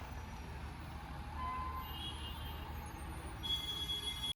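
An HRTC bus pulls away from Banikhet on the road toward Pathankot, its engine a low steady drone with faint high whines and beeps, moderately quiet throughout.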